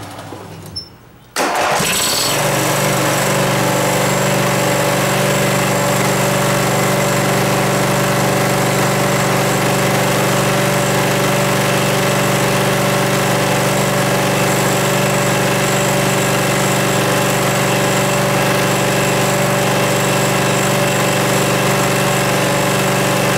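A Briggs & Stratton Vanguard 12.5 hp engine cranks briefly, catches and settles into a steady, loud running drone with a strong hum that holds for the remaining twenty-odd seconds, no talk over it.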